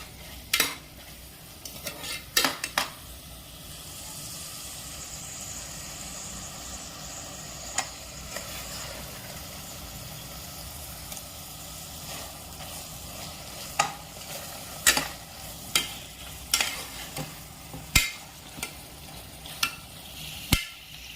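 Chicken frying over high flame in oil for Afghani chicken, a faint steady sizzle underneath with repeated sharp scraping and stirring knocks of a utensil against the pan.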